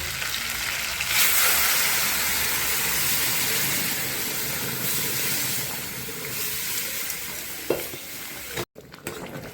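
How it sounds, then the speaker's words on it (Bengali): Mung dal tipped into a pan where a fish head is cooking, a steady close sizzle with stirring and scraping throughout, a brief clatter near the end and no voices. "এখন এর ভিতরে ডালটা আমি দিয়ে দেবো"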